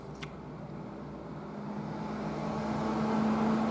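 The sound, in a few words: truck driving by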